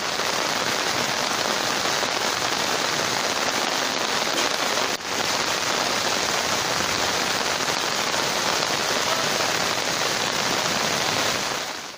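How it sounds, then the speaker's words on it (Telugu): A heavy downpour pounds down in Gannavaram, a dense, loud, unbroken roar of rain that barely dips once partway through. No voices are heard. "గన్నవరంలో కుండపోత వర్షం కురిసింది"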